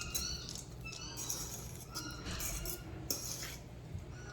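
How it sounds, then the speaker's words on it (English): A spoon stirring couscous with toasted pine nuts in a dish, giving light repeated scraping and clinking of metal against the bowl, soft and fairly close, with no talking. "we're going to add some toasted pine nuts. I already toasted these. And give that a little stir."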